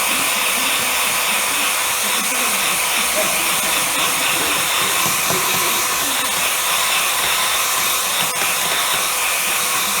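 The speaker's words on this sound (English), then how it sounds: "where's the hairdryer?" A hair dryer blows continuously close by in a thatched cottage, a steady loud whooshing hum with a faint voice underneath.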